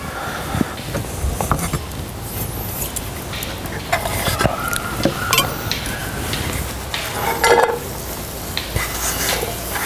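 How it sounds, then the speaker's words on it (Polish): Soft sizzling of spring onions frying in a pot, with clinks and scrapes of a utensil stirring, steady throughout with occasional louder knocks; no talking. "Dymka nam się powoli przysmaża"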